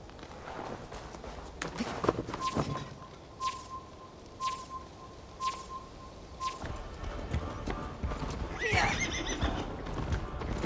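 Horse in the Assassin's Creed Valhalla video game, its hooves clip-clopping in a steady walking rhythm close by while it neighs and whinnies, with faint birdsong in the background and no talk.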